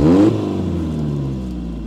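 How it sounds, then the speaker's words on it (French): Peugeot 405 engine running at a fast idle with the choke engaged, a loud, close, steady drone that drops slightly in pitch after a brief higher rev at the start. "Et bien là on y met le starter. Et normalement, elle va avoir un ralenti accéléré."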